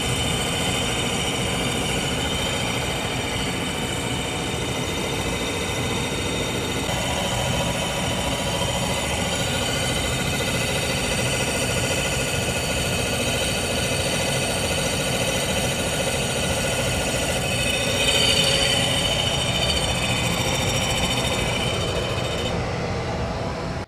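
A diamond grinding wheel cuts an end mill, giving a steady, loud whine with a constant machine hum beneath it and no audible chatter, running without a break for the whole stretch.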